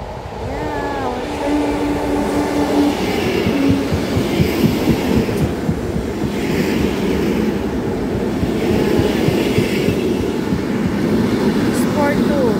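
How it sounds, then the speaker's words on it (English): A train rumbles into a station in Lokeren, Belgium, in the rain, with a rhythmic clatter of wheels and low mechanical roar, a brief tonal squeal early on, steady and fairly loud throughout. "Our train is arrived."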